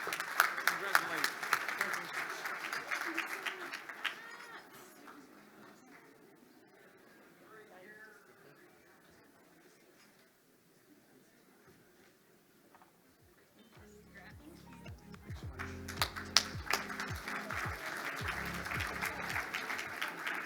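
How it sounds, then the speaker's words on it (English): Applause at a business excellence awards ceremony: a crowd claps loudly at first, the clapping fades to a quiet lull, then a second burst swells up near the end, with voices around it. "Give her a big round of applause"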